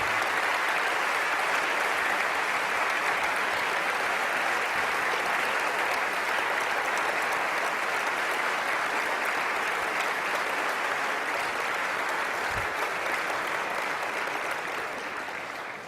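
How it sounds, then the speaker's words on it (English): Sustained applause from a large debate audience, steady and loud throughout, tapering slightly at the very end. "Let's give both of them one more round of applause."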